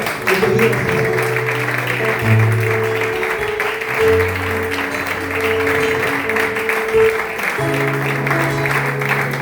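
Applause from a small gathering for a child's message, with clapping blending into sustained musical tones and a voice talking over it throughout.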